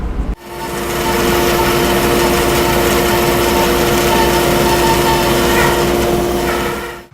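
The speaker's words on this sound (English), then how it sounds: "So I've got my bandsaw set up. I've got a nice sharp blade on it." A bandsaw with a sharp blade slices a wooden board, starting abruptly with a loud, steady high whine and a grinding rasp that holds evenly for about seven seconds before stopping.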